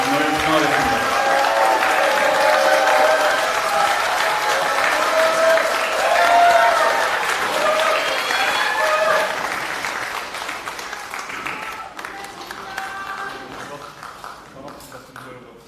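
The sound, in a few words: applause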